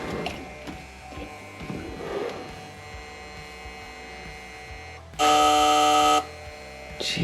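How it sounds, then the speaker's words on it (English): Buzzing tone from a car after its ignition is switched on, a loud, steady electrical buzz lasting about a second, preceded by low background noise and faint movement. "It's making some kind of buzzing noise."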